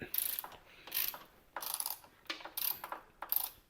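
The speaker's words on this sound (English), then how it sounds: "That's a 12mm socket" A 12mm socket ratchet loosening a fuel tank bolt on a Triumph T120 Bonneville motorcycle, giving five quick bursts of close, crisp clicking with short gaps between them.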